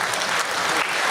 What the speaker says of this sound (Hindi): एक बार जोरदार तालियां बजाकर मुझे सूचित कीजिए